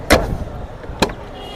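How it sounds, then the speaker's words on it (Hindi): Two sharp mechanical clunks from the doors of a 1985 Toyota FX car being worked, one near the start and another about a second later, close and distinct over a quiet low background. "और दरवाजे जब खुलते हैं तो आप खुद साउंड सुन रहे होंगे।"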